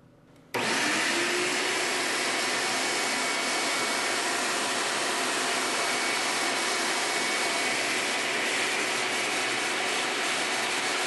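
A vacuum cleaner with a debris separator on its receptacle starts abruptly and runs as a loud, steady roaring whine, close and unbroken throughout.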